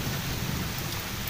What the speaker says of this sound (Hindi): देखो इतनी जोर से बारिश हो रही है